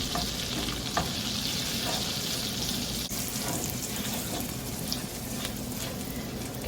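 Garlic fries in a pan with a steady, close sizzle and occasional stirring scrapes, heard alone throughout.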